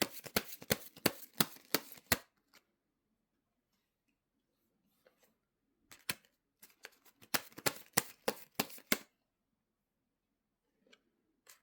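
Tarot cards are shuffled close by in crisp riffling bursts, first in a quick run of snaps, then after a quiet gap in a second cluster, with a few faint taps afterward.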